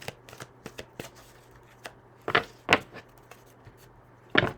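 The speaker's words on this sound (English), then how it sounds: "I'm gonna shuffle these cards" A deck of tarot cards being shuffled by hand, with scattered soft riffles and taps, then a few louder, sharper shuffle bursts near the end, close and alone without speech.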